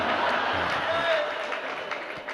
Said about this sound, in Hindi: ये ताली बजाने का भी अर्थ मैं जानता हूँ